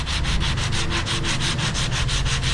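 Coarse 180-grit sandpaper on a hard block is rubbed by hand over a car part during prep work, making rapid rhythmic back-and-forth rasping strokes, close and steady, with no talking.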